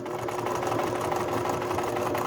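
A sewing machine running continuously while stitching embroidery, a fast, even mechanical whir and hum, close and alone.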